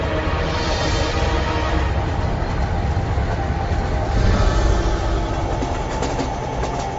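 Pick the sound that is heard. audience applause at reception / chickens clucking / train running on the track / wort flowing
train running on the track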